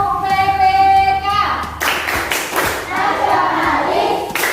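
A group of schoolchildren in an Indonesian classroom claps a rhythmic chant pattern, with a run of loud, close, sharp hand claps following a sung vocal phrase, voices mixed in with the clapping.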